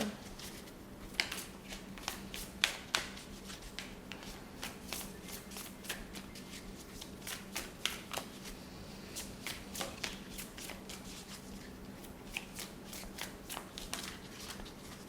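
Tarot cards are shuffled by hand during a pick-a-card reading, giving quiet, repeated riffling bursts and soft slaps in an irregular rhythm, close up with no talk.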